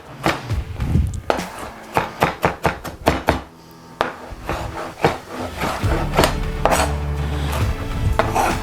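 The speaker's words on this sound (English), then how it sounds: "We're going to chop it up." A knife chops ingredients for pico de gallo on a cutting board, a brisk run of sharp, close knocks followed by looser scraping and clatter, with no talking.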